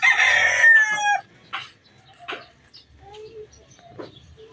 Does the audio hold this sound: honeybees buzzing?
no